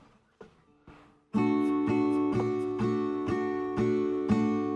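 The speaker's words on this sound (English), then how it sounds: "So the Taylor GS Mini with the steel strings is going to be much more like more of a bright sound" A few soft plucked notes lead into a steel-string Taylor GS Mini acoustic guitar strumming a bright, ringing chord repeatedly in a steady rhythm, close up.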